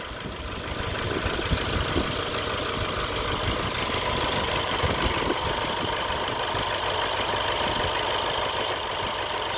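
Mercedes E63 4matic from 2014 with 115k km idling as it warms up, a steady broadband engine drone with an even low rumble and faint ticking, holding constant throughout with no talk.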